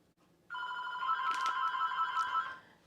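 A telephone rings once indoors in a kitchen, a clear electronic ringtone lasting about two seconds close by, with no speech over it.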